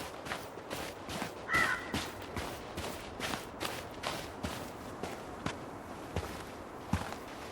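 Crows cawing around an old house in the video game Tell Me Why, with caws repeating at irregular intervals over a steady outdoor ambience, alongside scattered footstep-like taps.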